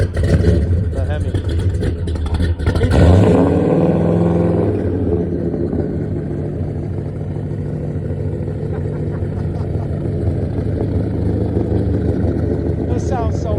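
A 1969 Plymouth Roadrunner Hemi gasser with a Keith Black Hemi idles loudly and close, a deep lumpy rumble with a brief rev early on, then a steady throbbing idle throughout.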